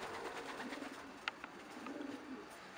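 Soft racing pigeon cooing in a quiet space, low murmuring calls with a faint background hiss and one brief sharp tap.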